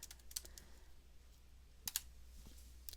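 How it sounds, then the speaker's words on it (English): A computer keyboard clicks faintly in a quiet room, with a few scattered sharp keystrokes and light taps over a low background hum. "just hold down the key and let it type repeatedly"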